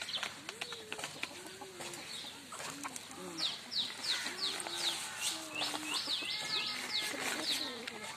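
Chickens clucking and calling as they are hand-fed grain, several birds close by with repeated short clucks and chirps, a voice speaking intermittently over them.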